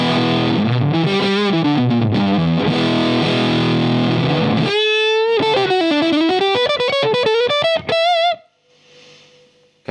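A Laney Cub-Super10 tube guitar amp with both gain and volume turned all the way up produces heavily distorted, sustained guitar chords, then a run of choppier distorted notes before cutting off into quiet hiss and a faint fading tail.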